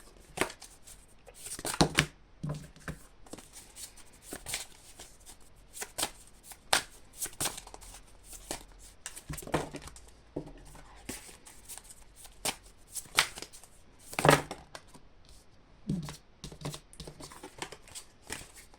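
Tarot cards are shuffled close by in quick, irregular bursts of papery riffling and slapping, soft but crisp, spread throughout with no talk.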